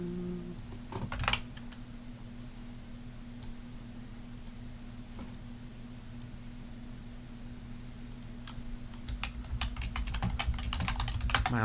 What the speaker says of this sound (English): My loud keyboard, sorry.